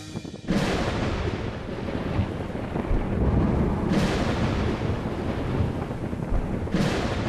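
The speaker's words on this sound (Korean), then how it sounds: "비구름 한 점 없는 마른 하늘에 가끔 천둥과 번개가 요란하게 수를 놓습니다" Thunder under a cloudless sky over the Gobi-Altai desert in Mongolia: three heavy cracks, each swelling into a long, loud, continuous rumble that fills the open air.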